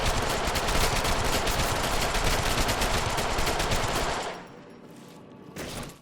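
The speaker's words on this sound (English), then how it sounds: "he shoots a target so much that he juggles them with bullets and pretty much disintegrates them" Rapid automatic gunfire from a Deadpool takedown in a video game rattles loud and continuous for about four seconds, then drops to a quieter tail with a brief last burst.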